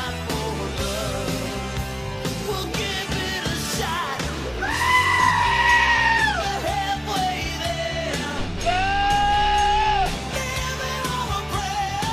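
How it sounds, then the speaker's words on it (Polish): Goat bleats set over loud, heavy rock music, with two long wavering bleating cries rising above the band midway and toward the end. "W tym małym gronie jednak znajduje się pewna koza."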